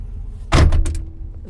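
The door of a 2014 Ford F-150 SVT Raptor pickup truck with a Hennessey conversion closes with a single solid thump, followed by a brief rattle of latching, close and fairly loud.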